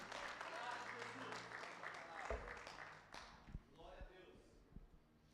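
Congregation applauding at a Sunday church service with communion, a dense wash of clapping through the first few seconds that thins and scatters into a few isolated claps near the end.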